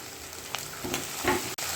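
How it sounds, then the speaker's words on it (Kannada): Onion frying in a kadai with ginger and green chillies, as tomato goes in, sizzles softly under a few stirring scrapes and a brief clack, close by with no talk. "ಇವಾಗ ಈರುಳ್ಳಿ ಫ್ರೈ ಆಗಿದೆ, ಟೊಮೆಟೊ ಹಾಕಬೇಕು"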